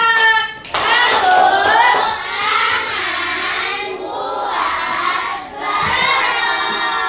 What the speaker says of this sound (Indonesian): Tepuk tangan buat Baroro